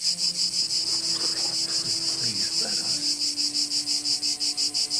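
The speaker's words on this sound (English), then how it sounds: "Knock it off with the cicadas or crickets or whatever's going on." A dense, steady chorus of crickets or cicadas in Georgia chirps in a fast pulsing rhythm, loud and continuous, with faint low sounds beneath.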